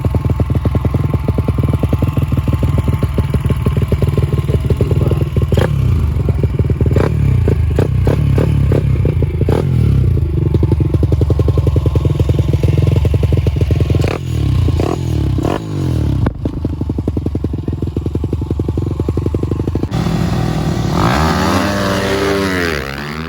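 A YCF SP3 150 and a Honda CRF 150 R, both 150 cc dirt bikes, rev and ride in turn, their loud engines droning with sharp throttle blips and gear changes throughout, and a passing whine near the end.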